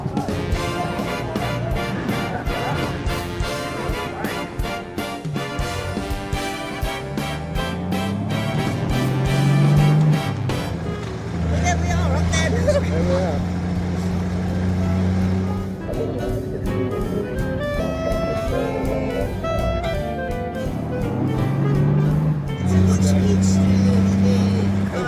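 A car engine roars under acceleration while driving, the engine note climbing and settling in repeated surges, loud inside the cabin, with people talking over it at times.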